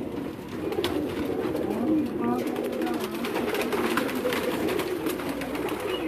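A pigeon coos softly on a rooftop in Karachi, low and rounded, partly masked by a steady background wash and someone talking throughout.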